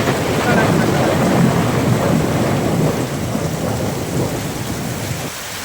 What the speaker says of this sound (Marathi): नुसता आबाळाचा आवाज गाड गाड गाड गाड